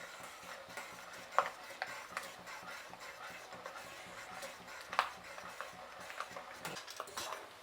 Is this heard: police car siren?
no